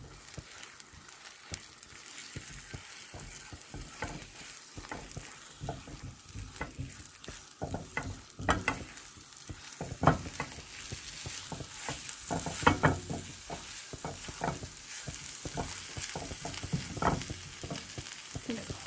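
Butter melts in a hot pan for scrambled eggs, giving a soft steady sizzle and crackle with scattered pops and stirring scrapes, close by and without talk.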